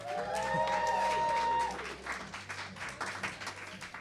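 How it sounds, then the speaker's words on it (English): A podcast audience breaks into a round of applause, loud, dense clapping that peaks for about a second and a half and then thins into scattered claps as it fades. "Let's go ahead and give them a round of applause."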